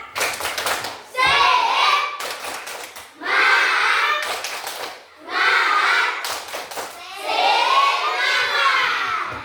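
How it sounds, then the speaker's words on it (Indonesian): A class of sixth-grade primary school children claps in short rhythmic bursts, chanting and shouting along between the claps, with brief pauses between rounds. "kita tepuk semangat dulu"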